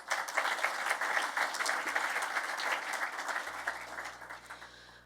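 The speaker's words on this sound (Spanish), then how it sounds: "un fuerte y caluroso aplauso, por favor" Audience applause at an energy-industry conference event, a steady wash of many hands clapping that thins slightly toward the end, with a low hum entering near the close.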